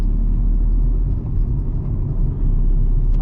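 A truck's engine runs under load during downshifting, a deep, close rumble with a brief dip and then a renewed surge as it revs between gears, loud and continuous with no speech.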